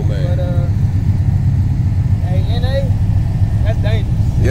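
A mildly modified Pontiac GTO with a 6.0 V8 and an aftermarket cam, being driven, gives a steady low, throaty rumble throughout while someone talks over it.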